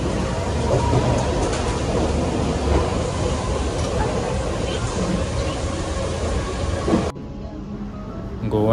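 A crowded Mumbai local train running between Govandi and Chembur makes a loud, continuous rumble and rattle for about seven seconds, then the noise drops abruptly and someone speaks.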